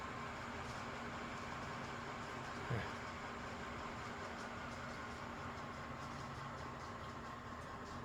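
An Envirofan Gold Line 160F industrial ceiling fan runs at its loudest setting, giving a steady, even broadband whoosh of moving air with a faint motor hum and one soft brief knock partway through.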